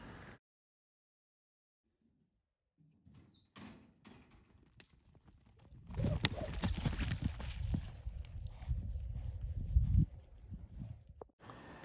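A horse moves about in a rodeo arena during tie-down roping practice: irregular hoof thuds and scuffling that build from near silence into a busy, louder stretch of movement, then fall away.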